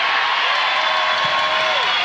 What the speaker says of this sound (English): Crowd loves the effort